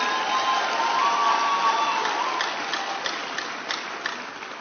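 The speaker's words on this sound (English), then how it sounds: "Clap for yourselves." Outdoor political rally crowd in Nigeria clapping and cheering in a steady dense wash, with scattered sharper claps standing out, fairly loud and continuous throughout.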